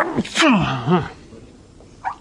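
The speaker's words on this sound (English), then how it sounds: "Chalkboards are great, except they make the lecturer sneeze." A lecturer in a computer-science class lets out one loud, voiced sneeze, a sharp rising burst that falls away within about a second, followed by quiet room tone and a brief faint sound near the end.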